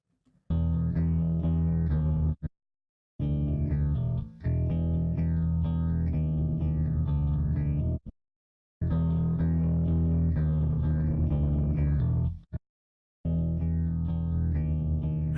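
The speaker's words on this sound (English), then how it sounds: "As soon as we switch to the other two settings, we get a bit of distortion happening." Bass guitar run through an iZotope Neutron plugin setting that adds distortion, played in four loud sustained phrases separated by short silences, with a fuzzy, chorused edge.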